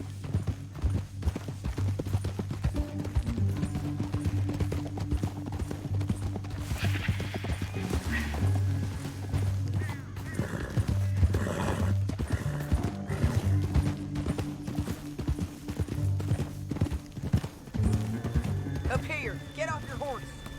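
Several horses gallop with rapid clip-clop hoofbeats in Red Dead Redemption 2, continuous and close, with occasional whinnies and background game sounds mixed in.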